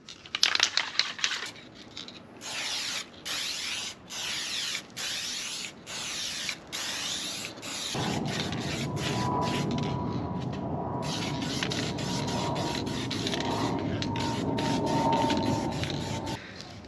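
An aerosol spray can lays a thick final coat of lacquer onto an alloy wheel, giving short bursts of hiss that turn into one long continuous spray, close up with no talking.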